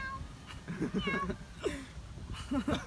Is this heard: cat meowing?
yes